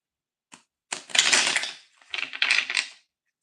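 A deck of tarot cards being shuffled by hand, heard as one short riffle followed by two longer bursts of crisp card flutter, close and clear with no talking.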